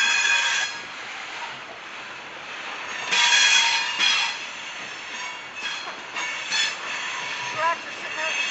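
A long CSX coal train loaded high with coal rolls past near Grafton, West Virginia, its wheels squealing and screeching in repeated bursts over a steady rumble of cars.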